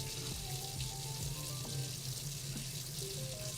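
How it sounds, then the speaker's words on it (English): Cold water runs from a tap into a sink in a steady hissing splash, with faint clinks and a low background hum, moderately quiet and continuous without speech. "Ran under cold water for a second."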